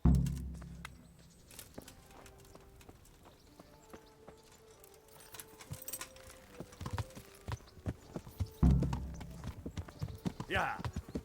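Horse hooves clip-clop at a walking pace while riding in the medieval game Kingdom Come: Deliverance, with uneven strikes under intermittent talk and louder bursts near the start and end.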